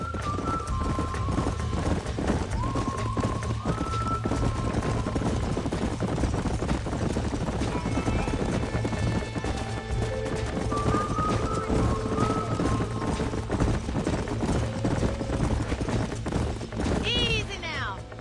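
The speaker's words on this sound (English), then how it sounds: "These are fine horses." Several horses trot with steady clip-clop hoofbeats on a ranch in the Red Dead Redemption video game, loud and close, mixed with background music and layered game sounds.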